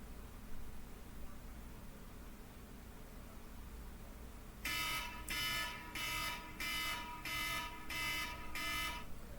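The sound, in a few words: alarm going off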